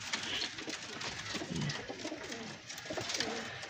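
Several pigeons coo softly amid background rustling, a faint continuous murmur of calls without speech.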